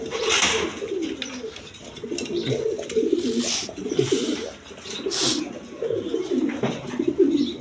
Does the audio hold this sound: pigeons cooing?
yes